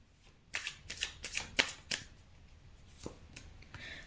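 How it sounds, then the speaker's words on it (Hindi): Tarot cards being shuffled and drawn, a run of crisp riffling bursts followed by a few softer single card slaps and flicks, close and fairly quiet with no talk. "चलिए आपके लिए 2 कार्ड निकालती हैं।"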